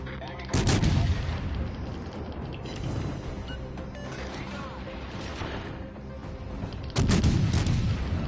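Naval gunfire in World of Warships, with heavy booming shell impacts striking a battleship, two loud blasts framing a stretch of rumbling battle noise.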